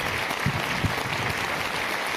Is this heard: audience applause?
yes